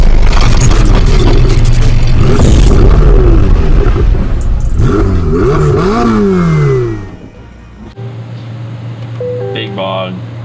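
A twin-turbo C8 Corvette on a chassis dyno revs hard with rising and falling engine sweeps, stumbling and bogging under load, loud and close, before dropping to a low steady idle hum with brief high whine at the end.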